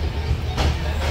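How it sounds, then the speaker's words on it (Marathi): A passenger train carrying travelling musicians rumbles along the rails as heard from inside a carriage, a loud continuous low roar with a faint rhythmic clatter. "ट्रेन पण चालू झाली आहे."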